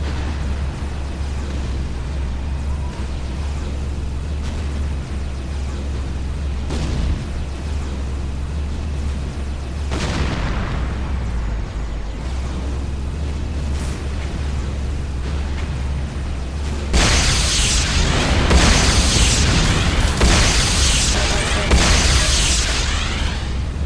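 Renegade multiplayer game battle sounds around a Nod Harvester under attack, with continuous rumbling explosions and booms layered over a low drone, growing louder and denser in the final stretch.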